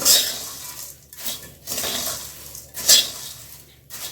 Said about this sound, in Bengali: চানাচুর অ্যাড করে 1 থেকে 2 মিনিটের মতো এভাবে নাড়তে থাকবো।